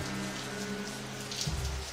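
Steady rain falling during a stormy night, a continuous patter of drops on surfaces with a low hum underneath and a brief louder splash near the end, constant and alone.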